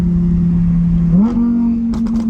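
An Audi R8 engine drones loudly and steadily, then its pitch climbs as it revs higher and holds at a raised, roaring level.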